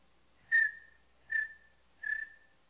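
A person whistles three short separate notes with pauses between them, imitating a bird calling at night, clear and close with nothing else audible.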